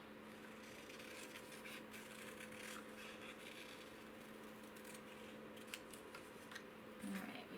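Scissors cut out a paper piece for a patterned paper bird craft, with quiet, irregular snips and rustles over a steady low room hum.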